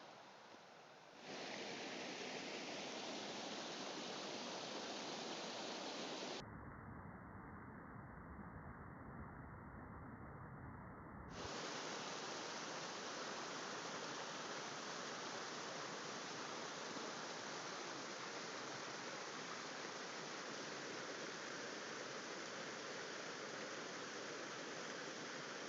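A small river rushes over rocks on a climb in the Lake District's Wasdale, a steady, close, full hiss of flowing water that briefly dulls midway before returning just as strongly, with no one talking.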